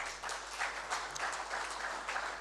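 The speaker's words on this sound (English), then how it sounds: "they deserve a round of applause" A seminar audience at the 2022 Zenith Bank International Trade Seminar applauds smallholder farmers, a soft, fairly distant wash of many hands clapping in uneven bursts, heard alone without speech.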